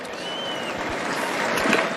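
A large crowd claps steadily at the Phillies Wall of Fame induction ceremony for Jimmy Rollins and Ed Wade, a dense wash of applause that swells slightly toward the end.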